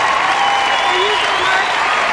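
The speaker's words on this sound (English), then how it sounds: "how about a nice round of applause for these folks?" A studio audience claps for the show's sponsors, steady dense applause filling the room at full volume without a break, with a faint tonal whine running underneath.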